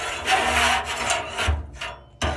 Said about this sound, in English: So on this side we have a scraper.